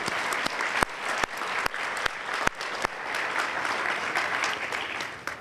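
An audience at a youth service awards ceremony breaks into sustained applause, a dense wash of clapping with a few sharp, louder claps standing out near the front.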